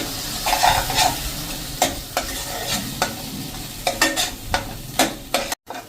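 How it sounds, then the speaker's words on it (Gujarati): Spices for stuffed onion curry sizzle in a hot pan with a little water while a spoon scrapes and stirs in repeated strokes, the frying hiss steady beneath the clatter. "મસાલો કૂક થાય છે"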